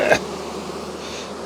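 Honey bees buzzing around hive boxes while nucs are being supered, a steady close-range drone that holds throughout after a short louder bump at the start.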